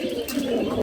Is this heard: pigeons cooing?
yes